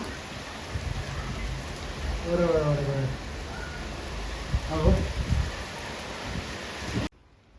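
Heavy rain pours steadily in a dense, constant hiss, with someone speaking briefly over the downpour.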